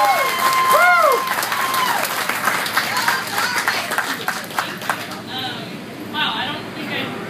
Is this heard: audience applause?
yes